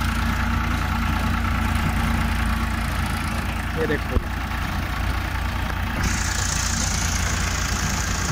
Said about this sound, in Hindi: दोबारा फार्म ट्रैक 45 आ चुका है।